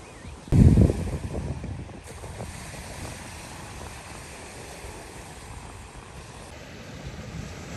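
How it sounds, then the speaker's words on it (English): Sea waves washing onto a beach at Kalamata, Greece, with steady wind noise buffeting the microphone; a brief louder gust or splash near the start, then a constant hiss of surf and wind. "The sound of the sea"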